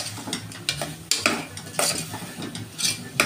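A spoon stirring veg biryani in a metal pot over a medium flame, quick close scrapes and clinks over a soft sizzle, with no voices.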